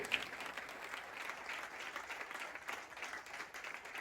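Applause from an audience at a Swaminarayan temple festival celebration, a steady wash of many hands clapping heard at moderate distance, fairly faint, with no talking.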